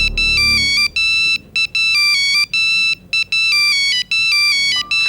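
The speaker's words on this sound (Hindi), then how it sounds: "सर, शिफाली का फोन है।" A mobile phone rings with an incoming call, a bright electronic melody of repeated short tones in rhythmic bursts with brief gaps, clear and prominent against a quiet room.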